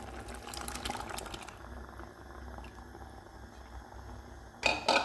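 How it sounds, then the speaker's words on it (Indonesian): Quiet bubbling of a simmering pot as coconut milk is poured in, followed near the end by a brief clink of metal against the pan. "Kita masukkan santan."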